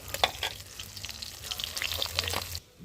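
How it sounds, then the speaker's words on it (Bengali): Fish fries in hot oil in a pan, making a continuous close crackling sizzle with scattered pops and spatters that stops abruptly at the end. "তো প্রায় ভাজা হয়ে গেছে মাছটা"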